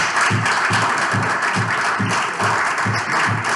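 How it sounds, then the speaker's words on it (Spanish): Audience applause at the inauguration of a stained-glass window honoring a mural, a loud, steady, dense clapping filling the whole stretch with a slightly pulsing rhythm and no talk over it. "Un fuerte aplauso"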